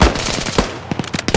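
Rapid automatic gunfire rattles in a military simulation game, a fast burst of close, loud shots that thins into a few spaced reports.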